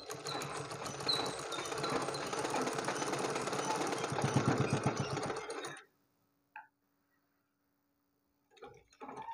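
A sewing machine runs steadily for about six seconds while stitching a blouse, then stops, leaving near silence broken by a couple of faint handling clicks and brief rustles.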